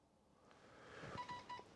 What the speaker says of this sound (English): So there you heard my phone beep.